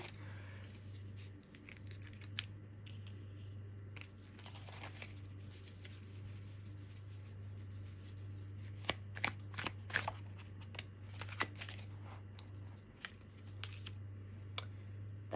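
Tarot cards shuffled and riffled by hand, a steady run of soft papery flicks and snaps that grows busier toward the end, close and alone over a constant low hum.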